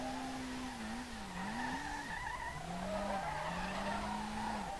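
A car drifts in the SLRR racing game, its engine droning at high revs while tires squeal in long, wavering screeches that rise and fall across the slide.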